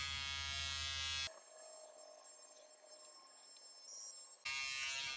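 Gillette Fusion Proglide Styler electric razor buzzing while shaving under the nose, a steady close high-pitched motor whine that changes tone as the blade presses against skin, with no speech.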